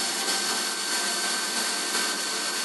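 A CNC machine mills a 1 mm step recess into an FX-4WD top arm, giving off a steady, loud, broadband whine with a continuous cutting hiss and no break in level.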